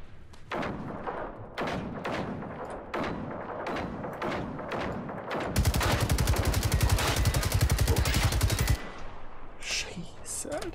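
Gunfire from the shooter video game Generation Zero: a run of sharp separate shots, then a dense, loud burst of rapid automatic fire lasting a few seconds, followed by a few more scattered shots.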